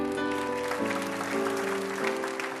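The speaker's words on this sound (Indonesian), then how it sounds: "Kasih tepuk tangan Tuhan." A church congregation claps steadily under sustained organ-like music, the applause dense and continuous.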